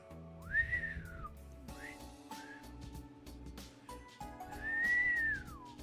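A person whistles two drawn-out rising-and-falling notes, one near the start and one near the end, with a few shorter faint whistles between them over a steady background of game music.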